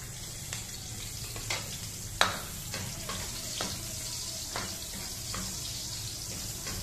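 Garlic fries in a pan for a Filipino lechon paksiw dish, giving a steady, moderate sizzle broken by several sharp clicks and scrapes as it is stirred, with no one talking.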